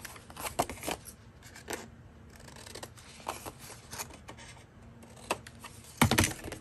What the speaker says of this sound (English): I am going to cut those corners so that when I fold it, it's not going to be making a mess